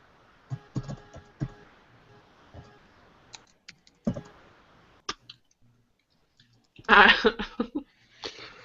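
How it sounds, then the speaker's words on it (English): Typing on a computer keyboard comes in short bursts of close clicks and taps with pauses between, plus a cough and some throat clearing. "Typing and talking, that's always tough."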